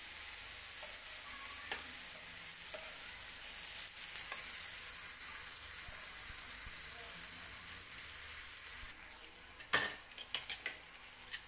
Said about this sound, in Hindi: एक तरफ से मशरूम फ्राई हो गई है